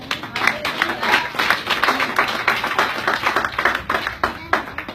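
A church congregation at an evangelical service claps in rhythm, with a steady run of sharp hand claps over several seconds mixed with crowd voices.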